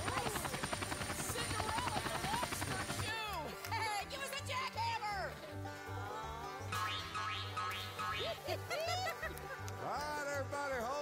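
A helicopter effect plays at a Hatfields and McCoys dinner feud show in Pigeon Forge, Tennessee. A rhythmic rotor chop starts after a few seconds beneath bouncy music and springy boing sounds.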